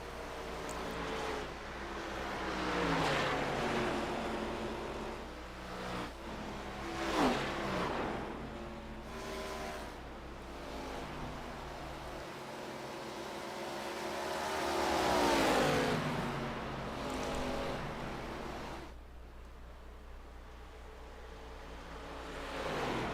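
ARCA Series stock cars racing at Darlington Speedway, engines roaring and rising as cars pass one after another, swelling near then fading, with a broadcaster's voice under the engine noise.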